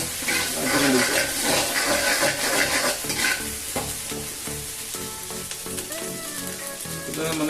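Chopped onions and shallots sizzle and splutter in hot oil in a pan while cooking chilli chicken, a dense, steady frying crackle with occasional louder spits, close up and without any talk.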